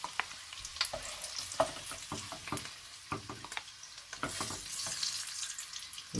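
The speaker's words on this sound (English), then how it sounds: "Now the eggs are nicely fried." Eggs frying in oil over a low flame in a pan, a steady soft sizzle with scattered crackles and the scrape of stirring, close and fairly quiet.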